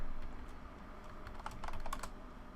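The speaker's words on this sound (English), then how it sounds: "now you're gonna type list part" Faint, quick keystrokes on a computer keyboard enter a command, a short burst of clicks over a quiet room background.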